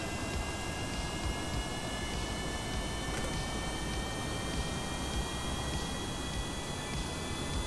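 An aircraft in Kerbal Space Program takes off from the runway with a steady, even engine roar that holds at a moderate level throughout, with no voices over it.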